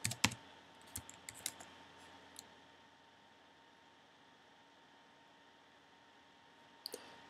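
Typing on a computer keyboard while working in a spreadsheet, a quick flurry of close clicks and key taps at the start, then quiet room hiss and a few more clicks near the end.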